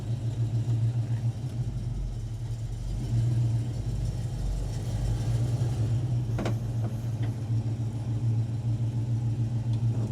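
A light muscle car with no power steering holds a steady low idle, its engine note dipping and labouring as it bogs down against the engaged emergency brake, a close, continuous rumble with a few brief clicks.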